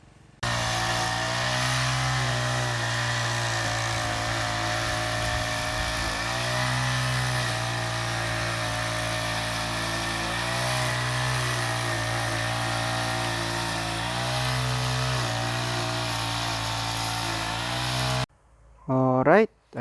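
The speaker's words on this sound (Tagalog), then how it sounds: "Well, obviously gumamit kami ng grass cutter para mas mabilis matapos" A grass cutter clears weeds in a backyard, its small engine droning loud and close in a steady, sustained whine with slight load changes, then cutting out near the end.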